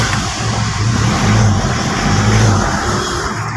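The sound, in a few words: Toyota Revo diesel engine starting and revving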